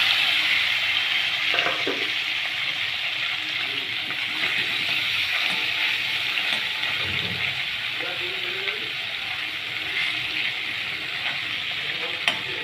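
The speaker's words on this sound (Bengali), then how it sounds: "তেল গরম হয়ে গেছে, এবার মাছগুলো দিয়ে দেবো" Small Ganges river fish, mourala, sizzle and crackle steadily in hot oil in a wok on a gas stove, a loud continuous fry with occasional stirring scrapes throughout.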